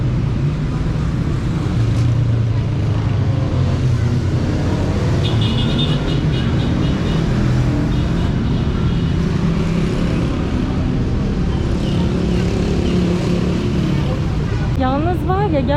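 Heavy street traffic roars in Tehran, a loud continuous wash of engines and city noise with voices talking over it throughout.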